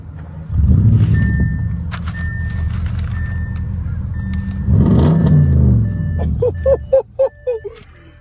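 Straight-piped exhaust on an Audi A8L roars steadily from near the car, swelling into a louder surge midway, then a run of short sharp throttle blips at the end.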